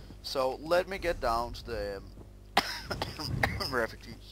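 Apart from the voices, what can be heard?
coughing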